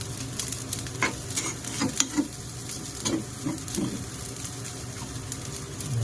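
Fried rice with small sausage pieces is stirred in a hot pan, scraping and clinking utensil strokes over a steady sizzle of frying, close up with no talking.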